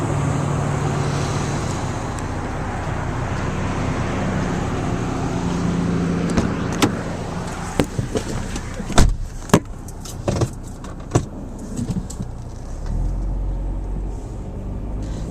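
A car rolls through neighborhood traffic in North Admiral, West Seattle, with a steady road rumble from inside, then a few sharp clicks and rattles near the end and no talking.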